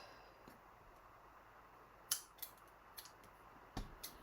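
Scissors snipping off loose thread ends after re-knotting a craft piece, a few quiet, sharp cuts spaced apart over a faint steady background hiss.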